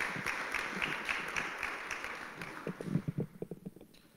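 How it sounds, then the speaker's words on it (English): Applause from an audience at a guide dog graduation ceremony: a steady wash of clapping that thins into scattered individual claps and fades out near the end, fairly distant and soft. "How about a round of applause?"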